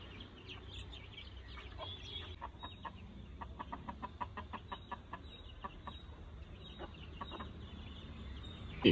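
A mother hen clucking to her eight chicks at a morning feeding, with soft, rapid, evenly spaced clucks in a steady series, heard fairly near over a quiet outdoor background.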